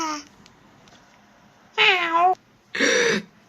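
Cat meowing from a plush toy animation series, a short high call followed by two loud, drawn-out meows spaced about a second apart, close and clear with no talk.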